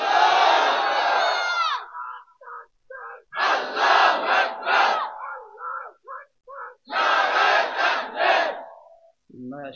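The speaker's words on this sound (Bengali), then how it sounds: "দেখি কে দাঁড়ায় তাকবীর দিবে।" At a religious sermon gathering, someone shouts the takbir and a crowd roars the response back, several loud call-and-answer bursts separated by brief pauses.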